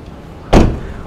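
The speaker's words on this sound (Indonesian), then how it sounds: "Meskipun tadi pas kita nutup itu suara bebnya itu belum sesolid kakak-kakaknya" The frameless door of a BMW 218i Gran Coupé swings shut with a single close, moderately solid thud followed by a short fading rumble.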